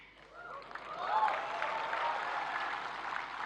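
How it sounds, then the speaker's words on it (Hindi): Men in an audience at a national creators' award ceremony in New Delhi's Bharat Mandapam clap together, the applause swelling quickly into a steady, dense patter of many hands in a large hall. "पुरुष ताली बजा रहे हैं, वरना उनको लगता है हमारा तो कोई डे आता नहीं।"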